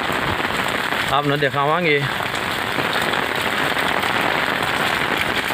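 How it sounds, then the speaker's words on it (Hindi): Heavy rain pours steadily in a village, a dense continuous hiss of drops on surfaces throughout, with a brief spoken phrase near the start. "आज तो ऐसा लग है कि लगभग सारा ही बड़ी आड़ी बारिश होने लग रही है।"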